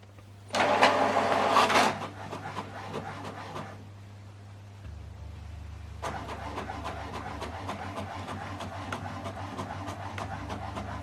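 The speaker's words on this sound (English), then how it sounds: "Now this document is printing." A desktop printer printing a document double-sided, starting with a loud burst of mechanical whirring, a quieter pause, then steady rhythmic feeding and printing ticks alongside a low motor hum.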